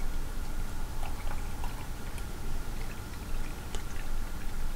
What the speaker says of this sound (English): I'm not going to pour it too aggressive.